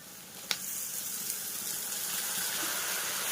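Whole spices sizzling in hot oil at the start of a home-cooked chicken curry, a steady, fairly quiet hiss with one sharp crackle near the start and no talking.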